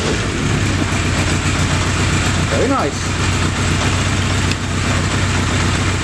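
Kickstarted 650 motorcycle engine with YSS shocks, running steadily at a low, quiet idle close by, with a person talking briefly over the rumble.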